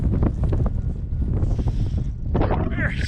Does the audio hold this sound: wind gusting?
yes